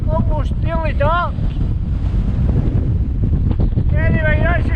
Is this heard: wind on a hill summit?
yes